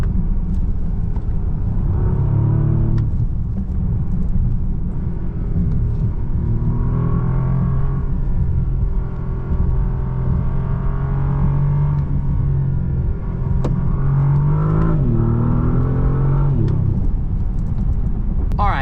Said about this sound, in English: I mean, listen to the exhaust.